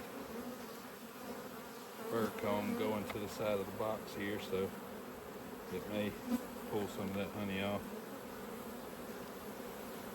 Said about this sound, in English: It is a full hive of bees,